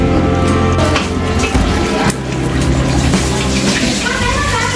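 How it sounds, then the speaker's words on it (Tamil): Water poured into a pan of tomato, onion and masala for a barracuda fish curry, a loud steady splashing stream with clinks of the pan and some sizzling underneath. "அதுக்கப்புறம் நம்ம தண்ணி நிறையா ஆட் பண்ணிக்கலாம்."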